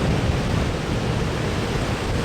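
Ocean waves pound the shore on the Dingle Peninsula, a steady, loud wash of broadband surf roar that carries on without a break and with no voices.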